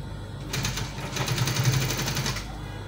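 A sewing machine stitches a V neckline in one steady run of rapid, even needle clatter lasting about two seconds, close and alone with no talk.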